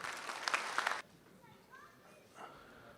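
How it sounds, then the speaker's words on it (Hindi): A crowd at a Republic Day poetry gathering (kavi sammelan and mushaira) gives a burst of applause for about a second, then it cuts off to a quiet room with faint distant voices. "इनके लिए बहुत सारी तालियां।"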